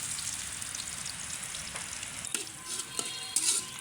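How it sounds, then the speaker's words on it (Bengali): Chopped onions frying in a pan for a snakehead fish curry, a loud continuous close sizzle with occasional spatula scrapes and small pops, no talking. "আগে পেঁয়াজটা খুব ভালো করে ভেজে নেব।"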